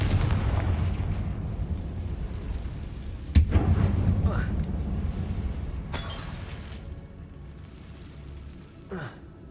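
Confringo fire spell cast in Hogwarts Legacy inside a closed mine tomb, a sharp blast followed by rumbling burst and crackle, with further bangs and whooshes later, under game dialogue and a player's voice.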